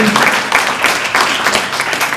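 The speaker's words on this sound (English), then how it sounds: "Clap it up for Don Amici" A crowd claps for a chief of staff at a mortgage initiative launch event, a short burst of loud, dense applause that stays fairly even throughout.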